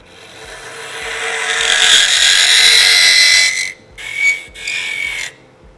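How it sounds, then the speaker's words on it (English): A small hole being drilled into wood with a Badger tool during woodturning: a continuous rasping, scraping drill sound that builds and holds, then breaks into a few shorter bursts before stopping. "right now I'm just drilling a little hole in there. This is called the Badger."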